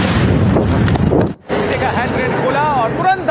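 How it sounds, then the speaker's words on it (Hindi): A hand grenade blast outside the BJP office in Chandigarh, picked up by a CCTV camera: a loud, harsh burst of noise, a sudden brief dropout, then a voice talking over the lingering rumble. "कैद में कैमरे में एक धमाके की आवाज हम सुनवा देते हैं"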